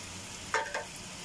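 Shrimp and vegetables cooking in coconut milk get a light stir, with two quick scraping strokes over a low bubbling simmer and no voices.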